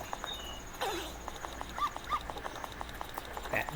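An in-game dog in Zelda: Majora's Mask 3D lets out a series of faint, high-pitched whimpers and short yips at irregular intervals over quiet background game audio, with no talking.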